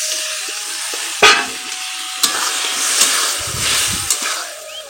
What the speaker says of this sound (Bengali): এখন এটার মধ্যে হালকা পরিমাণ জল দেবো, যেন মশলাটা প্রত্যেকটা আলুর সঙ্গে সঙ্গে মিশে মিশে যায়।